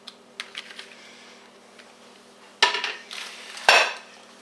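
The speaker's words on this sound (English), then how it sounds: "I'm going to mix the sour cream" Cucumbers being mixed with sour cream in a bowl: light spoon clicks and taps at first, then a few louder wet scraping strokes against the bowl, close up and without speech.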